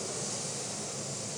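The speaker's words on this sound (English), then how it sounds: "Now this is water entering a well," Steady broadband rushing and hissing of water entering a well in a flow loop, picked up by fiber-optic acoustic sensing, constant and fairly loud throughout with a low rumbling undertone.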